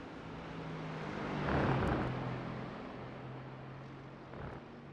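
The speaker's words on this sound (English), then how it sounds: "Lovely sound of the AMG." A Mercedes-AMG race car on track at Watkins Glen during an East Coast V8s round gives a faint engine drone that swells briefly as it passes and then fades back to a distant hum.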